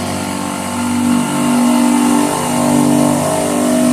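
A Bauer 2300 PSI brushless electric pressure washer sprays steadily, giving a loud, continuous motor drone and hiss with slight swells as the nozzle is inched along a grimy surface.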